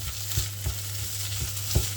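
Pearl barley risotto with tomato sauce stirred in a frying pan, with soft scraping strokes repeating every half second or so over a steady low hum and faint sizzle.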